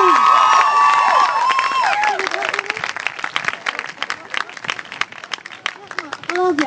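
An audience at a poetry and music gathering in Khartoum claps and cheers. Talk and shouting sit over the start, then a loud, close run of dense, scattered clapping with cries follows.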